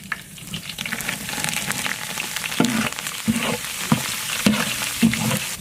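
Mutton curry ingredients fry in hot oil in a village kitchen and are stirred now and then, giving a steady close sizzle broken by scraping strokes of the spoon through the pan.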